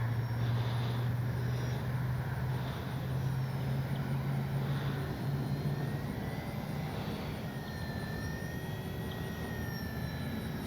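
An H-King Kitfox RC airplane flies in to land on a runway, its small electric motor giving a steady, moderately distant hum that stays even throughout, with no voices.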